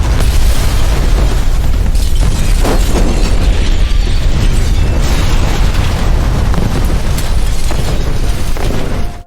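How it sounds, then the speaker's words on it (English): A powerful explosion in the video game Cyberpunk 2077 Phantom Liberty, a loud sustained booming roar with crackling debris and rumble filling the whole stretch, cutting off abruptly at the end, with no speech. "After a powerful explosion, they not only escaped the building"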